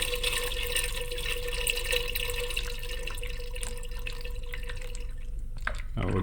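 Engine oil drains from a 2022 Can-Am Renegade 850 ATV during an oil change, giving a close, continuous trickle with bubbling and dripping that ends in a sharper splash.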